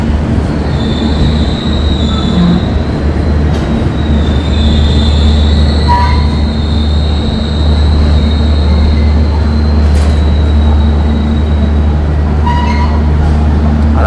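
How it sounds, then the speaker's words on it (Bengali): The Kanchankanya Express, train 13150 from Alipurduar Junction to Sealdah, pulls out of platform 1 with a loud continuous rumble, wheel squeals rising and falling over the steady roar, and brief clicks along the rails. "1 নম্বর প্ল্যাটফর্ম থেকে কিন্তু ছাড়লো, ট্রেন নম্বর 13150 down Alipurduar junction Sealdah Kanchankanya express"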